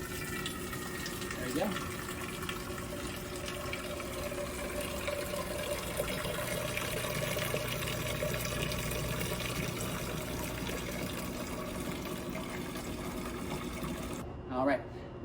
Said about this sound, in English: And then we're just going to simply fill it up by opening the valve.